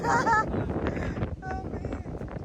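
Strong wind on a hilltop hiking trail in Nasugbu, Philippines buffets the microphone in a steady roaring rush, with people talking faintly underneath.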